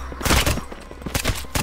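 Gunshots in the zombie horde survival game Deathly Stillness, loud and close, coming as a few rapid blasts with short gaps between them and no voices.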